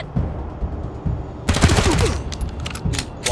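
Rapid bursts of automatic gunfire from the video game Wasteland 3 rattle loudly in the middle of the clip, followed by scattered sharp single shots, with low muffled sounds before the shooting starts.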